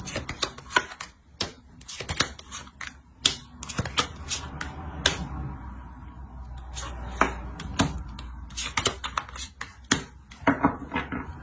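Tarot cards being shuffled and laid out one by one on a table, a run of crisp, sharp clicks and snaps in an irregular rhythm with brief softer shuffling in the middle, close and fairly quiet.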